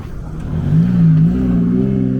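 A modified car revs loudly nearby, its engine note swelling and holding steady for about two seconds without voices.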